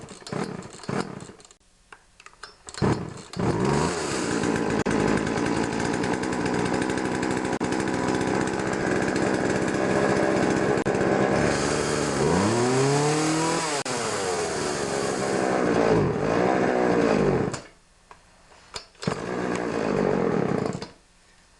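A Poulan 2150 chainsaw fitted with a new Walbro carburetor, running a bit lean, starts and idles loudly, then revs up and down through several throttle blips before dropping back near the end.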